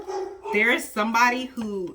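A Labrador and German Shepherd mix barks in a short run of three or four loud, close barks, with a person talking over them.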